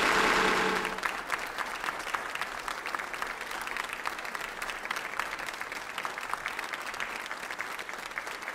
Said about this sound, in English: them a round of applause